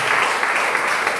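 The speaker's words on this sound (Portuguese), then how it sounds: "Pode dar uma salva de palmas para a palavra do Senhor" Congregation in a church service clapping together after a Bible reading, a dense steady wash of applause throughout, fairly loud and continuous.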